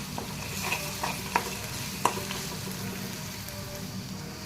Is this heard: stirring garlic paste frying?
yes